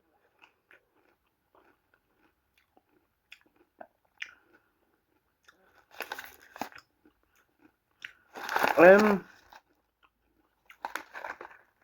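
A crunchy sea-salted healthy snack is bitten with a loud, close crunch, followed by a few quieter chewing crackles in an otherwise quiet room.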